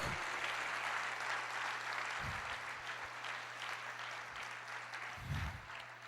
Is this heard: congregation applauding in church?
yes